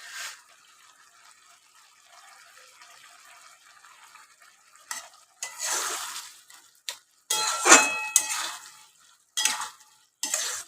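Bottle gourd shukto is stirred in a pan, a quiet simmer at first, then several loud bursts of sizzling and scraping in uneven clusters, close and without talk.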